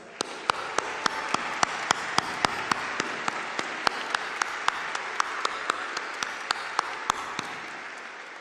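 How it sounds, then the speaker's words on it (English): Applause at a fall college commencement ceremony for graduating master's candidates, a steady wash of many hands clapping from a large crowd, with a few sharp individual claps standing out up close throughout. "let's applaud all the accomplishments of the graduating master candidates"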